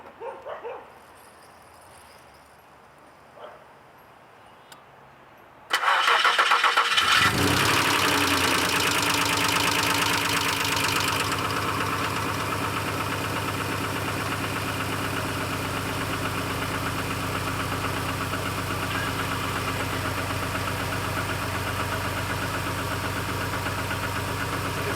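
Car engine with a newly installed Evil Energy fuel pressure regulator cranks and fires after a quiet, shuffling lead-in, then settles into a loud, steady idle that holds nearby for the rest of the stretch.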